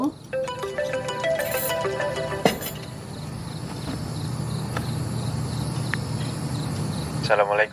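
A phone ringtone plays a repeating melodic pattern for about two and a half seconds at home, then stops. Quiet room noise follows, with a short burst of ringing near the end.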